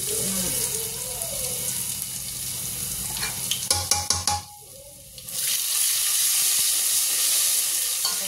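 Spices sautéing in a pan in a home kitchen: continuous sizzling with scraping stir strokes and metallic clinks, a brief quieter lull midway, then the sizzle returns strongly.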